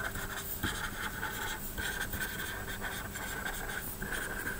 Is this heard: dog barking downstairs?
no